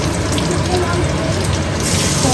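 Panch phoron spices sizzle and crackle in hot white oil, a steady loud broadband hiss running throughout with a faint voice underneath.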